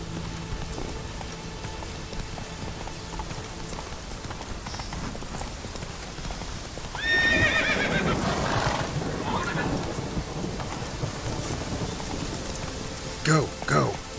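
Steady rain patters throughout as Roach the horse moves through it in Witcher 3, with a burst of hoof and whinny-like sound mid-clip and brief sharp knocks near the end.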